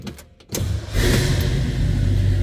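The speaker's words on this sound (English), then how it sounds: "Every time I've started this truck, that's how it starts. That was a cold start" A 1966 Chevrolet C10 Stepside street rod pickup cranks briefly on a cold start, then catches and settles into a loud, rough, steady idle close by.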